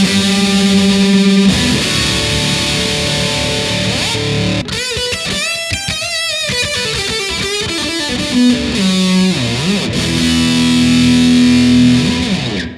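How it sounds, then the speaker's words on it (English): An electric guitar played through a Boss DS1 distortion pedal rings out with heavily distorted sustained notes, a faster run of picked notes in the middle, then more held bends, loud and alone. "for comparison, here's the Boss DS1 pedal"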